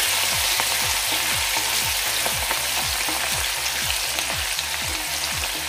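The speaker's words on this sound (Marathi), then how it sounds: "एक 2 मिनिटं हे परतून यामध्ये आपण हळद घालूया।" Grated radish sautés in a pan over a low flame with a dense, steady sizzle. Soft, regular low thumps and scrapes from stirring recur throughout, and no one speaks.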